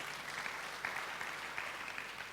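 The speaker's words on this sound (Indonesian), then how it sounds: "Mau tepuk tangan buat Yesus?" A church audience at a healing sermon applauds, steady dense clapping heard faintly from a distance with no talk over it.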